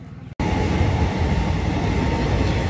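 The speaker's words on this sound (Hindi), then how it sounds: "फाटक बंद हो रही भाई गई है रेल" A train rolls past a railway crossing, arriving abruptly after a brief lull and then holding as a loud, steady, broadband rumble with faint rhythmic wheel clatter, close by and without talk.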